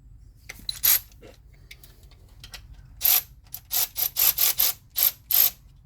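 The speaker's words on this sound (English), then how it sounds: "then we'll rotate the motor a whole round and see what happens." A ratchet turning over a Toyota 4.7 V8 (2UZ) engine by hand: short bursts of clicking, a few scattered then a run of regular pulls, fairly close and loud with no talk.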